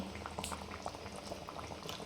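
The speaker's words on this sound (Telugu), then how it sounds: "మన పులుసు మొత్తం బాగా మరుగుతుందండి." Nellore fish curry bubbles in a pot on the stove, soft rapid pops and gurgles of a gentle boil, close and quiet, continuous and alone.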